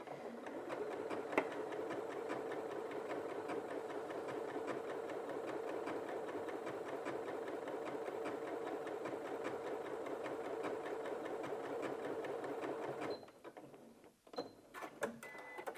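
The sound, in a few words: Janome 8200QCP sewing machine quilting with built-in walking foot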